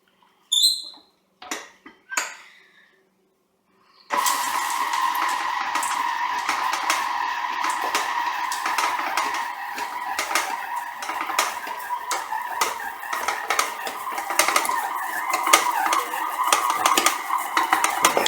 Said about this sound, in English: lift the bowl and mix it at a slow speed